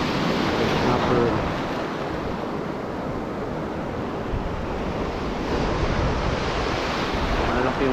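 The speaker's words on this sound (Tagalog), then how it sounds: "Malaki yung alon mga master" Big ocean waves crash and wash at a rocky shore during lure fishing, a loud continuous roar of surf mixed with wind buffeting the microphone.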